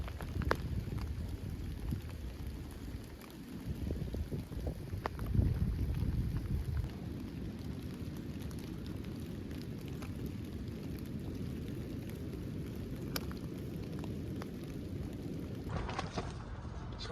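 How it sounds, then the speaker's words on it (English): Strong wind buffets the microphone in steady roaring gusts, with a heavier burst partway through and no one speaking. "So as you can see, it is pretty damn windy."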